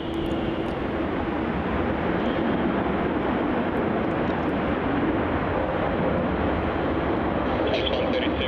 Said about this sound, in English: Touching down on runway 34 there, we have the Qantas 737 flight QF132 from Christchurch